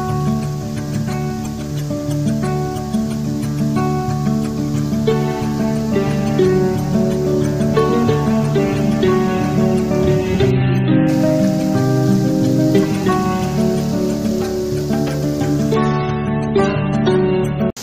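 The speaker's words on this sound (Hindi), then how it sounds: "2:30 बजे देखो कितनी तगड़ी बारिश हो रही है" Steady, dense patter of heavy rain with wind drums on a surface without a break, a constant hiss filling the whole stretch, close and fairly loud.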